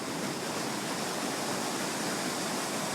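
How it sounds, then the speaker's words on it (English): A waterfall beside apartments in Seattle, Washington roars as a steady, even wash of rushing water, loud and unbroken throughout, with no voices. "open your windows and hear the beautiful waterfall every day"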